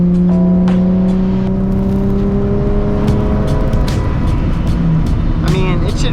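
Nissan 350Z driving along a canyon road, its engine a steady close drone with sustained tonal whine and continuous road and wind rumble throughout, with a brief higher squeal near the end.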